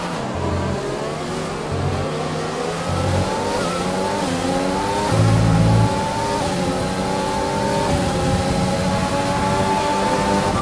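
An F1 2020 race car engine screams through a lap in the video game, its loud, high-revving tone rising through gears with brief downshift dips and steady sustained drive, and no voices over it.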